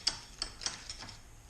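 Worn bench vise that won't close all the way being cranked, giving a few faint ratcheting clicks at an uneven pace, close by and quiet.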